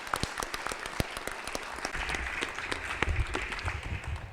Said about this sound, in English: Let's give a big round of applause for our coaches.